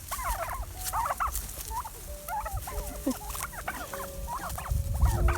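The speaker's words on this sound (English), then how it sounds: "Hey, turkeys." A flock of turkeys on a homestead gobbling in repeated bursts, with several birds calling over one another against steady outdoor background noise.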